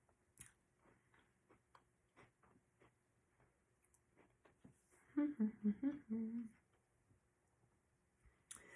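A milk-soaked Oreo cookie is chewed close up: faint clicks, then a brief cluster of soft, wet, crunchy bites in the middle of an otherwise quiet stretch.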